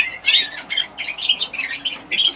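Canaries in an aviary chirp and tweet in quick, bright bursts, several birds calling close together with brief wing flutters between calls.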